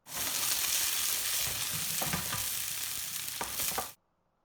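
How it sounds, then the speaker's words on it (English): Steady, loud sizzling of fennel and garlic frying in hot olive oil in a roasting tray, with a couple of brief clinks of stirring, ending abruptly. "The roasting tray is nice and hot, so I put some olive oil in it and add the fennel and garlic."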